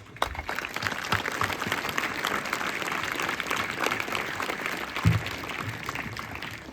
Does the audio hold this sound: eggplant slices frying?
no